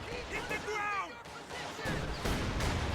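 Grenade explosion in a World War II strategy game, a rumbling burst with crackling debris arriving late, preceded by game voice chatter and whistling effects.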